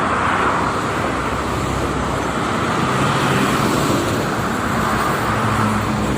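Morning traffic on the Jakarta–Cikampek toll road, trucks, private cars and travel vans passing in a dense, steady roar of tyres and engines, loud and unbroken with no voices.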